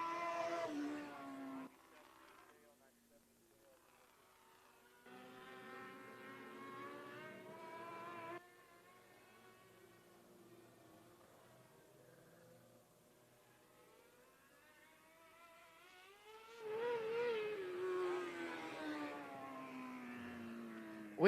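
Outlaw Non-Wing race cars howl around the Marion County Speedway bullring during a heat, engines rising and falling as they pass in waves, mostly distant with a louder surge near the end.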